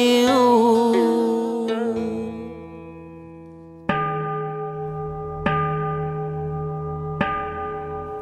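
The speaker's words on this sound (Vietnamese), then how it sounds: "chuông đổ gọi con hiền" A bell tolls three times in slow succession, each resonant strike ringing out with a long humming decay, following an earlier sustained chanted or sung tone that fades away.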